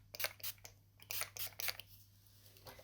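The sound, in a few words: Urban Decay All Night setting spray being sprayed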